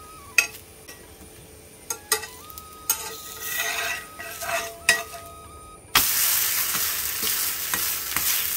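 Sickle senna roti cooks with butter in a pan, a steady close sizzle broken by scraping and stirring clicks, then a louder burst of frying as the roti hits fresh fat.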